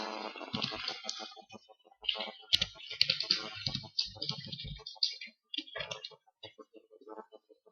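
Someone types on a computer keyboard to rename a folder. The keys click quickly and unevenly, close by, in uneven bursts with brief pauses and no talking.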